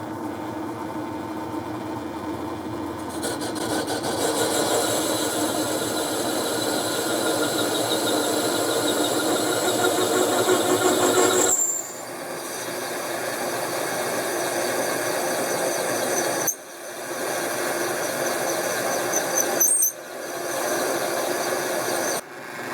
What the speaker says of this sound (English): I put the parting off tool back in the lathe in the same settings.